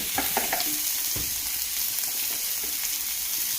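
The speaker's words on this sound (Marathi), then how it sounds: "तर चला आता आपला कांदा परतोय" Onion frying in a pan at home for a Maharashtrian baingan bharta, a steady close sizzle with faint stirring scrapes and clinks in the opening moments.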